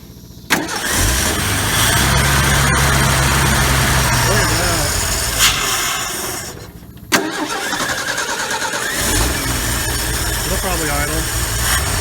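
A 1968 Ford F100 left forgotten in the woods for 20 years cranks and fires on choke, then runs at a loud steady idle with a brief dip and restart; voices talk over the engine.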